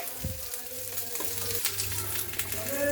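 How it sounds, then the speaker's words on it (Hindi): Onions and green chillies sizzle and crackle as they fry in oil in a pan, with stirring clatter over a busy, close frying hiss. "इस तरीके से चलाते हुए आप इसे सालुक फ्राई कर ले। ये आप देख सकते हैं प्याज और हरी मिर्च सालुक फ्राई हो चुकी है।"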